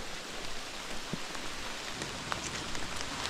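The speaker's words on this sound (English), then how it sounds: "since it's raining" Steady rain pours down with a dense, even hiss in the Phong Nha jungle, Vietnam, a few louder drops standing out now and then; no voices.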